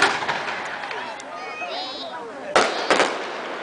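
Fireworks bursting on the 4th of July in Eastport, with two sharp, loud bangs near the end over a background of crowd noise and scattered voices.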